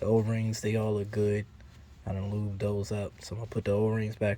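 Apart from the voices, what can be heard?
None of the usual background noises is heard.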